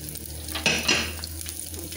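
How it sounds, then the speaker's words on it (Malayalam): Chopped garlic dropped into hot coconut oil in a pan, giving a steady close sizzle and frying hiss with a brief louder burst of spattering and stirring. "അതിലേക്ക് നമ്മൾ അരിഞ്ഞ് വെച്ചിരിക്കുന്ന വെളുത്തുള്ളി"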